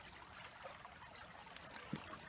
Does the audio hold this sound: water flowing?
yes